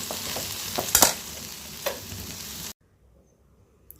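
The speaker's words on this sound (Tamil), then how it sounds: "இப்போ தேங்காய் சேர்த்து நல்லா கிண்டிக்குவோம்" Okra and coconut stir-fry is stirred in a hot pan, giving a soft sizzle with a few sharp scrapes and clanks of a spoon against the pan before it suddenly goes quiet.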